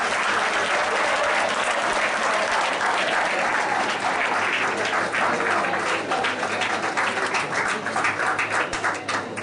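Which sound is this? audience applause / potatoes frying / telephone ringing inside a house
audience applause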